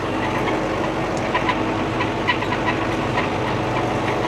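A New Holland TN85FA tractor used for brush pulling runs steadily with a dense, continuous engine rumble and clatter, loud and close throughout with no talking.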